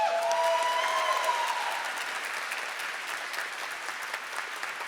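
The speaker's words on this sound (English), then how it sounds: "Please, and a round of applause." Audience applause at a game-awards ceremony, a broad even wash of many clapping hands that starts full and slowly tapers off, with a brief tonal ring at the start.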